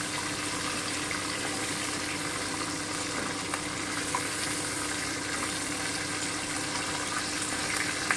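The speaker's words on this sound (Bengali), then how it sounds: "এইভাবে আমি পুরো চিকেনটাই ভেজে নিচ্ছি" Pieces of chicken fry in a pan for Butter chicken, giving off a steady, dense sizzle that holds evenly throughout with only a few faint pops and no voices.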